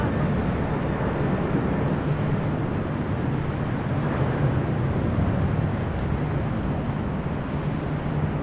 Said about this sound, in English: Cargo jets taking off there on the south side.